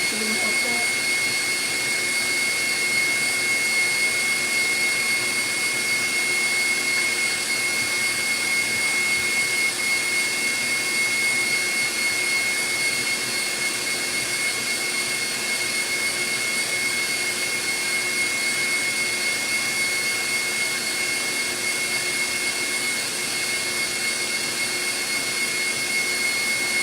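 An electric mixer beating thick cherry nut cake batter whirs in a steady, loud, high-pitched drone that holds for the whole stretch without pause.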